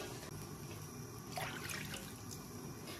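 Two bowls of water are tipped into a pot, a quiet liquid pour and splash with a brief louder gush midway, alone with no voices.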